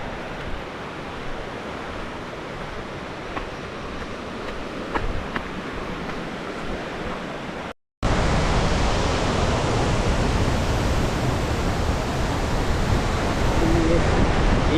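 Water crashes down from about 70 feet in a waterfall, a dense, continuous roar heard up close, with a brief cut before it grows louder and fuller.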